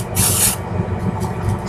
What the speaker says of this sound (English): spray it up,